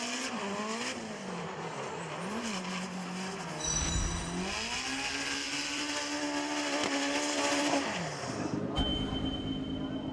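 Drift cars at the FIA Intercontinental Drifting Cup 2017 roar past with rising and falling engine revs and screeching tire squeal, a loud continuous blend of engine whine and skidding that swells midway before easing off.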